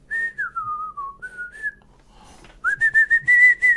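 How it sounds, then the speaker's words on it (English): A person whistles a flute riff, a clear, close melodic line that pauses briefly and then returns with a run of short, bright notes. "Now, I've whistled that"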